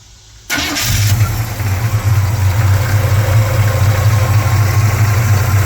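A 1986 Chevy C10 truck engine with freshly repaired exhaust and headers cranks and catches, then settles into a steady, loud, deep idle with a low rumbling throb.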